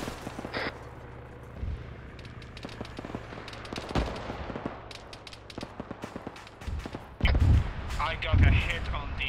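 Gunfire aimed at a T90 tank and a BMP in the game Arma 3: quick bursts of machine-gun fire and single heavier shots, then louder booming blasts near the end, with someone talking throughout.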